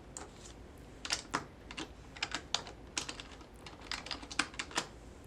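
Fingers typing on a computer keyboard to enter a layout name, light irregular clicks and key taps in quick bursts, close and fairly quiet, with no voices.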